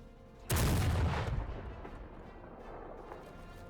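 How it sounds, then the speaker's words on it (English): A heavy seacoast mortar fires in a Civil War battle game, one deep, loud boom that rolls out and decays into a long low rumble over a few seconds. "Seacoast Mortar."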